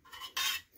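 A spoon scrapes and clinks through spaghetti sauce in a pot, a short stirring stroke with a brighter swish in the middle, close and quiet with no talking.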